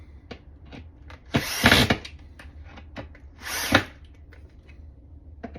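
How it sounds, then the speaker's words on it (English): A power drill drives screws during IKEA Besta furniture assembly, two short loud bursts of whirring a couple of seconds apart, surrounded by light clicks and handling knocks. "Now let's drill it."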